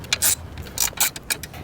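A ratchet tightens the top battery hold-down on a Porsche 991.2 GT3, giving short, close bursts of clicking in quick, uneven strokes.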